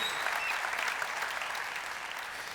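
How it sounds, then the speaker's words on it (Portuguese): A church congregation applauds during a sermon, a dense, even wash of many hands clapping at once that holds steady throughout and tapers only slightly toward the end, with no voice on top. "Vamos dar salva de palmas a Deus por isso?"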